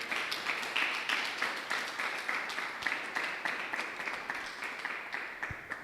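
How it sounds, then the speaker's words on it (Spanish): A Spanish-speaking church congregation at a Sunday service breaks into steady rhythmic applause, with many hands clapping together in a regular pulse that stays fairly even throughout. "Vamos a darle un lindo aplauso a nuestro Señor"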